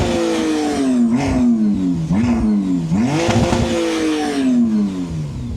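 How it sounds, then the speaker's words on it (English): A warmed-up McLaren Artura Spider V6 in track mode revs hard while stationary: three loud, close throttle blips, each rising to a rasping peak and falling back, with no talking. "We're gonna give it some revs so you can hear what the V6 sounds like."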